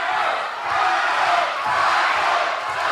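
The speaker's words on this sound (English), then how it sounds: "Crowd deafening now." A wrestling crowd at a ProSouth Wrestling event roars and cheers loudly and continuously, a dense, steady wall of massed voices with no clear break.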